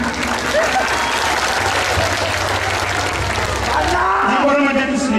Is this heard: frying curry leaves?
no